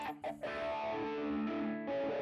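An electric guitar processed through a reverb effect in Guitar Rig 5 Pro plays a few short picked notes, then sustained ringing chords that wash out with a lingering tail, played alone without talk.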